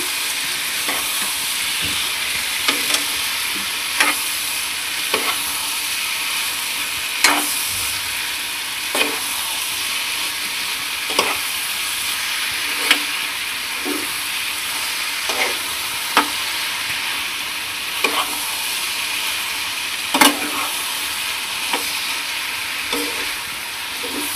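Bottle gourd and prawns being stirred in a hot pan, a steady sizzle under regular scraping strokes of a spoon every second or so, close and alone without any voice.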